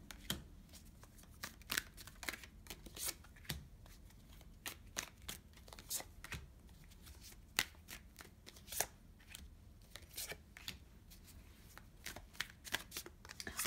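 Tarot cards are shuffled for a reading, a quiet, close run of crisp riffling and flicking bursts repeating irregularly throughout.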